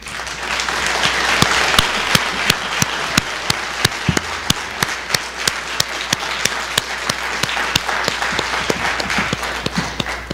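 An audience at a 2021 municipal election debate in Sorel-Tracy applauds the candidates: dense, steady clapping fills the room throughout, with sharp individual claps standing out near the front and a low hum underneath.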